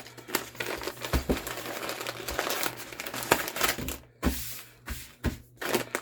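A small waterproof plastic bag from an ultralight medical kit crinkles and rustles up close as it is handled, in uneven bursts of crackling with brief pauses between them.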